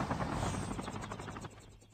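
Helicopter in a multiplayer shooter video game, a steady dense rotor drone with rhythmic chopping pulses, fairly loud and close, mixed with faint game noise and no talking.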